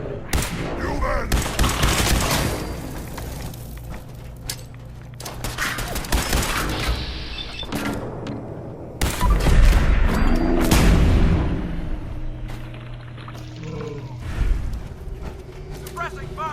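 Heavy gunfire and booming blasts from Fallout 4, loud bursts of shots and explosive thuds coming in clusters with short pauses over about sixteen seconds.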